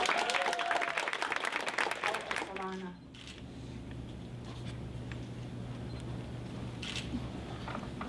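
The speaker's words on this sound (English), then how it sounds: "can you clap for your judges?" Students clap for the judges at a native oratory competition, a short burst of close, dense clapping with voices over it that stops after about three seconds, leaving a quiet hall with a low hum.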